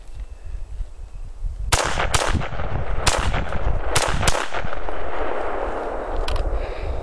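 Rapid shots from a semi-automatic rifle, a CZ858, ChiCom SKS or Russian SKS, fired outdoors in quick pairs. About six loud, sharp cracks come in close succession and echo over steady background noise, with no voices.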